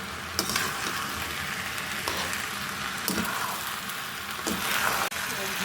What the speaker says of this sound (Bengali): আমি এটা ভেজে নিচ্ছি